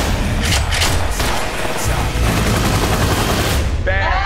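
Dense, continuous gunfire in a chaotic movie action scene, sustained loud bursts filling the whole stretch with booming low rumble, ending with a brief whistling sweep.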